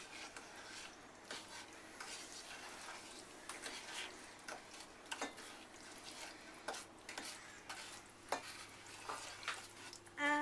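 A spoon stirs sugar into a cake mixture in a bowl, giving soft, close scraping and light clinks in an uneven rhythm, quiet and with no talking.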